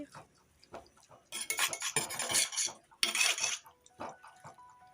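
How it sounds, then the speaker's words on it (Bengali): Small fish curry stirred in a pan over low heat, with bursts of metal utensil scraping and clinking against the cookware amid wet bubbling, plus a few quieter gaps. "তো খুব সুন্দরভাবে এটাকে নাড়াচাড়া করে দেব"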